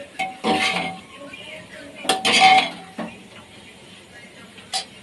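A spoon stirring in a pan after black pepper powder goes in, a few distinct metallic clinks and scrapes in separate bursts with quiet gaps between them, close by.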